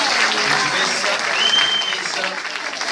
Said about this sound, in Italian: Un applauso più forte